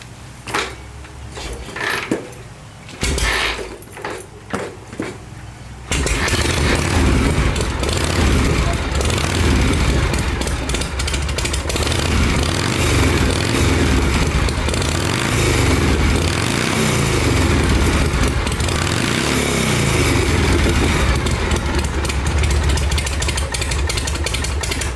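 A Harley Shovelhead motorcycle engine with its exhaust baffle pulled out cranks and sputters for a few seconds, then catches and rumbles loud and steady with a throaty, uneven idle lope, swelling slightly with throttle blips.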